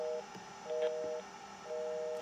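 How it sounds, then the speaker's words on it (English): Telephone dial tone generated by an Ameritec AM-7 central office simulator, a steady two-note hum sounding in three interrupted bursts, each about half a second long, with no voices. "Oh, the dial tone, continuous, interrupted, continuous."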